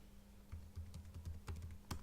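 Quiet typing of a password on a computer keyboard, a quick irregular run of soft close key clicks with no talk.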